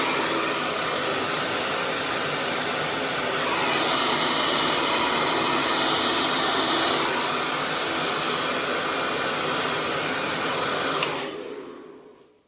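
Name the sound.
hair dryer blowing hair dry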